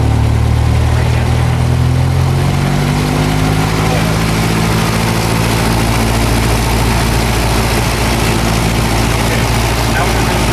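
A light training aircraft's piston engine runs steadily at 1700 RPM during a pre-takeoff run-up, a loud, continuous low drone that holds unbroken and close throughout.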